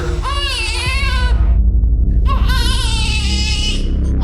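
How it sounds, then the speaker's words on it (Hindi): An infant wails in long, high, wavering cries with a brief pause midway, loud and close over a low steady rumble. "घर में पिछले 4 घंटे से बच्चे की रोने की आवाज आ रही है"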